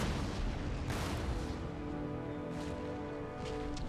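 Artillery fire in the strategy game Empire: Total War, booming cannon shots over a continuous battle rumble, with several distinct blasts spaced out, fairly distant and dense.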